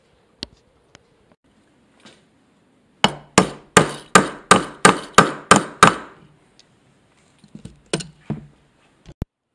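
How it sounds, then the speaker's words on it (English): A hammer drives a staple into a wooden mouse trap through a pre-drilled pilot hole, nine sharp, evenly spaced strikes close by, followed by a few lighter taps and knocks. "I drilled a small pilot hole to put that staple in so we don't crack the wood"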